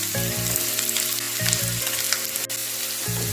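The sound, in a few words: onions frying in hot oil in a wok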